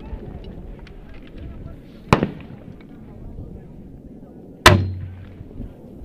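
Two sharp, loud artillery rounds fired during a firefight in Afghanistan, each a sudden blast with a short rumbling tail a couple of seconds apart, over steady background noise and occasional voices.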